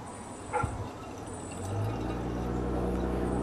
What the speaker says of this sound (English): what I'm going to do is I'm going to pour some into here